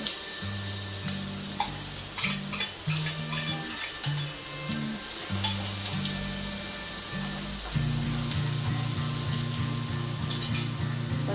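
Onions fry in oil with asafoetida and spluttered seeds, a strong, continuous sizzle with crackling spatters and a steady tonal melody playing underneath.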